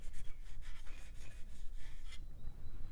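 Thermal paste being wiped and rubbed off a 1.8 GHz Pentium 4 processor from a retro Shuttle XPC small form-factor PC, a soft continuous scrubbing and rasping close up, steady and moderately quiet with no talking.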